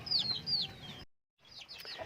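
Native chickens cluck and chirp nearby on a small farm, a few bright calls in the first second, a brief silence, then softer clucking and rustling.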